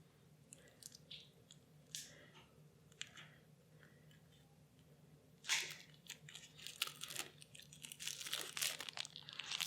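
Crinkly plastic wrapping is peeled and torn from small packs of Dice and Dragons cards, quiet and close, with sparse crackles at first that grow into a busier, louder stretch of crumpling toward the end.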